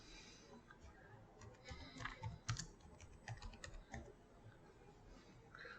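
Typing on a computer keyboard in an irregular run of quiet clicks and taps, faint and close, with a brief louder flurry in the middle.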